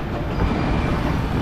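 Rail noise at Erode Junction railway station in Tamil Nadu, a loud, dense, steady rumble of a train moving close by, with no clear breaks.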